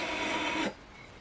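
Sanding beam dressing the fretboard of a Skau jazz guitar under restoration, a steady close broadband rasp of abrasive on wood that stops abruptly partway through, leaving quiet room tone.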